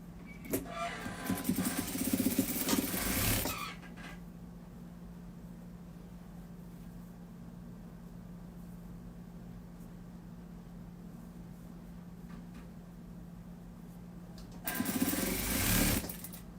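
A sewing machine stitches the hem of a blouse in two bursts of steady, close whirring, one at the start and one near the end, separated by a long stretch of quiet background hum.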